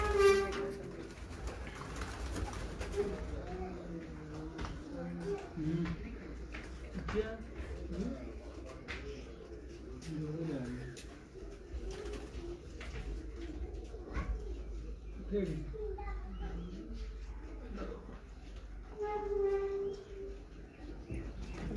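Pigeons coo on a rooftop in Dogri Ghumanan, Sialkot, with soft repeated calls scattered through the stretch and clearest at the start and near the end, while people talk over much of it.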